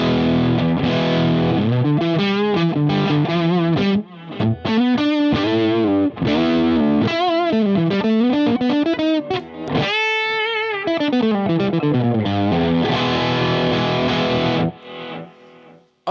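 An electric guitar played through an MXR Raijin Drive overdrive pedal used as a clean boost, loud melodic lines and bends with sustained notes and brief pauses, no talking.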